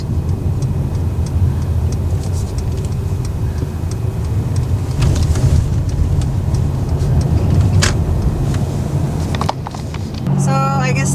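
Steady road and engine rumble from inside a car driving on the left in the UK, continuous and loud throughout, with faint ticking near the end.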